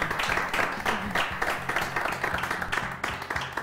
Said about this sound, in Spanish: Aplauso para Daniela.